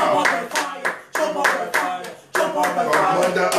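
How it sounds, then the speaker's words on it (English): Hands clap in bursts during a loud church deliverance prayer session, with sharp claps layered over voices and resonant, sung-sounding tones that rise and drop away in repeated waves. "As I clap my hand"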